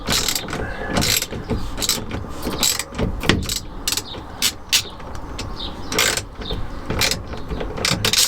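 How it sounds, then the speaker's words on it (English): A ratchet wrench undoes a 13 mm nut on the steering column of a classic Fiat 500, with loud, close clicking bursts in uneven strokes and rattling metal in between. "So now got 2 ratchets on each side. I'm just undoing this 13."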